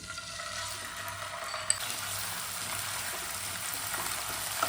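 Ginger garlic paste frying in white oil in a wok, giving a steady, even sizzle throughout with a couple of faint clicks and no voices.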